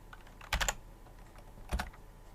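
Two short bursts of clicking keystrokes on a computer keyboard, close and quiet, separated by a brief pause.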